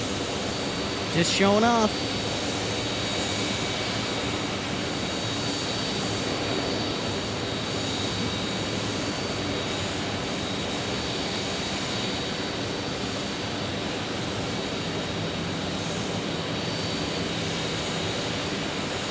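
An airplane floating over runway 26 while landing at Phoenix Sky Harbor airport, a steady distant jet engine roar that holds throughout, with someone talking over it near the start.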